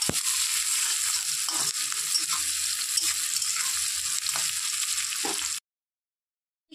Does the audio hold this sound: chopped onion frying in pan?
yes